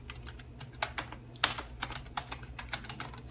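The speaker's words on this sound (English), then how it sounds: "I'll type in the link." A computer keyboard clatters softly with quick, uneven keystrokes as a web link is typed, close but quiet over a low room hum.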